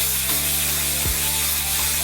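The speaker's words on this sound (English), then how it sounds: "I've left this first coat of high build primer to dry, and I'm going to hit it with my second coat." High build primer sprays onto a BMX frame in a steady, continuous hiss that lasts throughout, close and loud, with a couple of faint knocks underneath.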